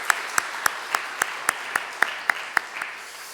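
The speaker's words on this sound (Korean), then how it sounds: "하나님께 영광의 박수를 드리겠습니다" A church congregation claps in unison during a worship service, giving about eleven sharp, evenly spaced claps at a brisk steady beat, fairly faint and with no talking over them.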